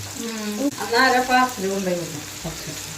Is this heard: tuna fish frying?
yes